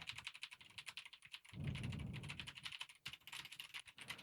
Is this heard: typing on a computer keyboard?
yes